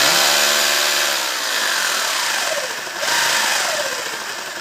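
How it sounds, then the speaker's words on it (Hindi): An electric drill machine running off an inverter kit gives a loud, steady mechanical whir with a rising and falling motor pitch, continuous throughout with no talking. "ये ड्रिल मशीन किस तरह से"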